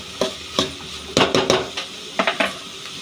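Two large sliced onions being stirred in a frying pan, a spoon clattering against the metal in a few scattered scrapes and knocks over a quiet, steady sizzle.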